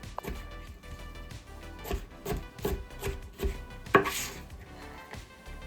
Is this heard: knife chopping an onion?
yes